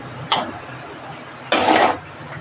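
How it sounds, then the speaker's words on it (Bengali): Shukto vegetable curry is ladled into a bowl, with two brief clinks of metal on the bowl rim and a short scraping pour, close and distinct against quiet background. "এবার আমি এই বাটিটায় তুলে নেব।"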